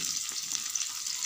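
Hot mustard oil sizzling steadily in a pan, a dense hiss held at an even level throughout this brief moment, with faint stirring ticks and no voices.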